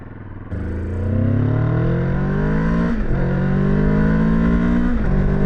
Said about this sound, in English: this has a deeper engine note to it, just a little bit